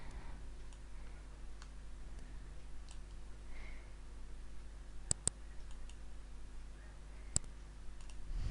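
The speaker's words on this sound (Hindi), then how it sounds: "इरेज़र पे क्लिक करके हम अपनी टेबल को इरेज भी कर सकते हैं।" A computer mouse clicks a few times while a table is erased in Microsoft PowerPoint. There are two quick clicks around the middle and another single click later, all sharp and close, over a quiet room hum.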